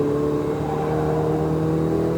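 A Ferrari 488 GTB on a race track, its engine holding a loud, steady, smooth drone with sustained tonal whine, close and continuous throughout.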